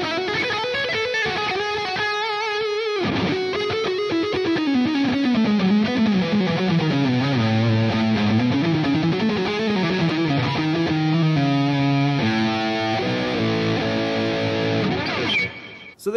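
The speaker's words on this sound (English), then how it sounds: "it's a cinch to conjure up some really epic, soaring lead tones" A distorted electric guitar played through a PRS Archon 50 Mark II amp plays a loud, sustained lead line with bending, gliding notes that climb and fall, then ends in a brief stop.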